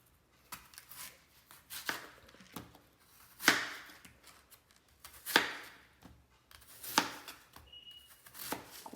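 A knife chops an apple into cubes for a fruit salad, landing as sharp, separate knocks on a board at an irregular pace, with a few louder strikes in between. The chopping is close, with quiet pauses between cuts and no talking.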